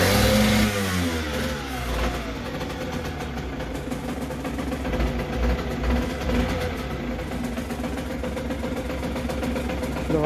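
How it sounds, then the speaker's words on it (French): A cold engine idles very low and rough, a steady, close throbbing rumble that holds for about ten seconds with slight uneven wavering. "Le ralenti est très bas, très froide."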